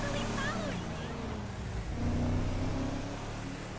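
A stolen day worker truck drives in a video game, its engine a steady mid-pitched drone that swells slightly partway through, with someone talking over it.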